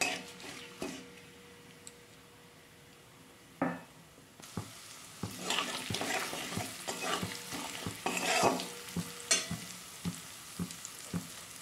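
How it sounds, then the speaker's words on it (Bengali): Half-spoon amounts of ground coriander and ground cumin fry on a very low flame as a utensil stirs and taps against the pan in irregular bursts over a soft, quiet sizzle. "হাফ চামচ ধনে গুঁড়ো, হাফ চামচ জিরে গুঁড়ো দিয়ে ভালো করে মশলাটাকে ভেজে নেব"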